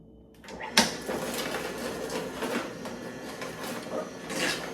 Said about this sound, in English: the juicer is grinding all of the fruits and vegetables up